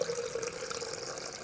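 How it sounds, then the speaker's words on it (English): Water pours in a steady, smooth stream from a water filter, a close, continuous liquid rush lasting a moment. "I got my water filter thing here."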